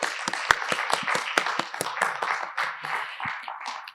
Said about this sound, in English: Please join me in another round of applause for all of our presenters.